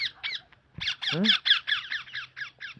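A pet parrot squawks in a rapid series of harsh, raspy calls, loud and close, with one lower drawn-out cry partway through and brief gaps between bursts.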